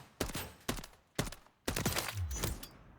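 MCW rifle fired at a video game firing range: four or five loud, separate single shots spaced roughly half a second apart, each with a short crack and decay, no voices.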